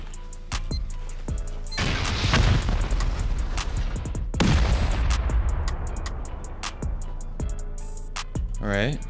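Rocket explosions in Rust during a raid on an armored base, a string of heavy booming blasts with sharp cracks and rumbling debris, loud and close, a few separate hits spread across the stretch.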